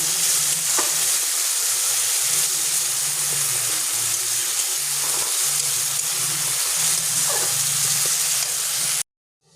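Fish curry masala frying in a pan while being stirred, with a steady loud sizzle and scraping stir strokes heard close up and without voices, ending abruptly.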